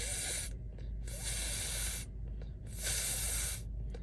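A voice imitates air hissing out of a leak, like air pumped into a flat tire: three loud, breathy hiss bursts separated by short pauses, close to the microphone.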